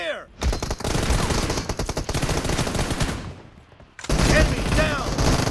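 Sustained automatic gunfire in a PUBG team deathmatch match, a dense burst of rapid shots that fades briefly and then resumes just as loud, with game sound effects in the mix.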